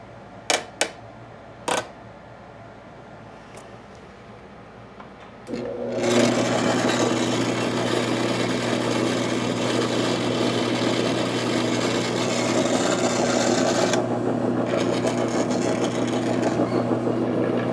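A flat lap machine spins up after a few clicks and settles into a steady whirring hum while Brazilian agate is polished on a 1200 grit disc, with the pitch shifting slightly partway through.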